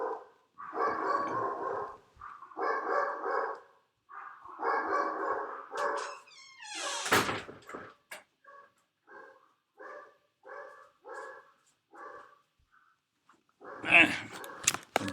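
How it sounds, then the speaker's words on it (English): A dog barks in rapid bursts, heard fairly near, with repeated loud volleys followed by shorter, quieter barks and a final sharp outburst, while someone talks intermittently. "A dog found a squirrel or something."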